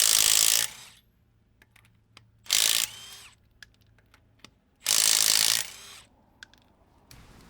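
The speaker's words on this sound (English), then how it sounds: "both the Milwaukee FUEL M12 and the Ridgid Sub-Compact 3/8 impact wrenches performed very well at 100 foot-pounds, taking lug nuts off on your car" Three loud bursts from a Milwaukee FUEL M12 Stubby impact wrench on speed 3 hammering lug nuts off a car wheel, each lasting under a second, separated by quiet clicks and handling noises.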